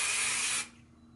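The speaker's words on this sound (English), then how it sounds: "I'm just gonna spray it" A single burst of hairspray onto curly hair, a close, bright aerosol hiss lasting about half a second before cutting off into quiet.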